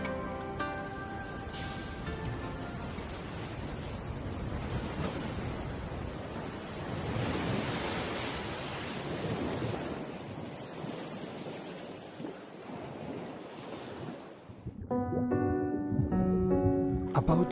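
Waves breaking and churning the sea off Changdao in the Bohai Sea, a continuous loud wash of surf with wind noise that drops away, then returns stronger near the end.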